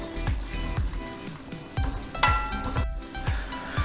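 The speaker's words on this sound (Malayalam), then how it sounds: "കുറച്ച് സമയം കൂടെ ഇളക്കി കൊടുക്കുക അതുപോലെ." Thick mutton roast gravy sizzles in a pan while a spoon stirs it in quick, regular strokes, each scrape sounding close and clear over the steady frying hiss.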